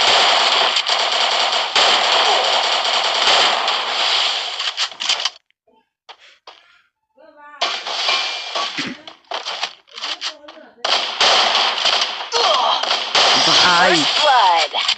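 Gunfire in the mobile shooter game Free Fire: loud rapid bursts of automatic fire broken by short pauses, with a voice talking among the shots.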